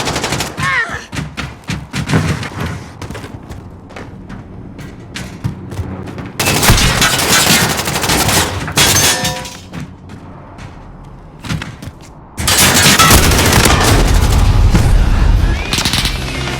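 Bursts of light machine gun fire in a Modern Warfare 2019 match, loud rapid automatic volleys in repeated strings separated by short pauses, with thumps and impacts in between.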